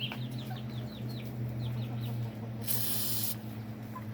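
Chickens on a homestead cluck in a quick series of short calls against a steady outdoor hum, followed by a brief hissing spray burst, with no voices present.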